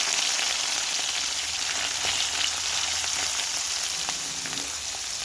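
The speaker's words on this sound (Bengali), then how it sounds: "প্রথমে শুটকিটাকে তেলে ভেজে নিচ্ছি।" Dried loitta fish frying in oil with a bay leaf, giving a dense, steady, loud sizzle that runs without a break, with faint crackles and no voices.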